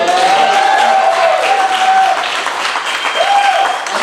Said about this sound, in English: Give a round of applause for both.